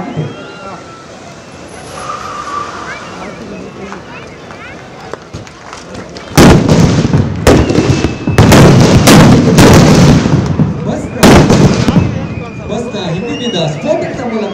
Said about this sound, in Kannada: ಸ್ಫೋಟಕದ ಮೂಲಕ ಡೈವರ್ಷನ್ ಮಾಡುತ್ತಿದ್ದಂತೆ